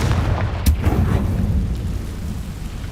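A Confringo spell blast in Hogwarts Legacy on hard mode goes off as one sharp, loud crack followed by a rolling, rumbling boom that slowly fades.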